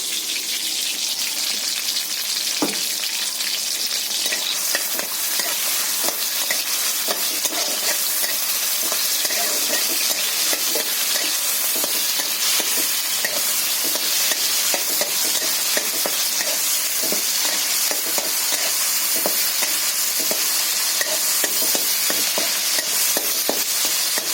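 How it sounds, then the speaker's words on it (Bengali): A ground paste of ginger, garlic, green chilli, onion, coriander, cumin and a little poppy seed hitting hot oil, a loud dense sizzle with crackling pops throughout, close and without talk. "বন্ধুরা এই তেলের মধ্যে মশলাটা দিয়ে দিচ্ছি"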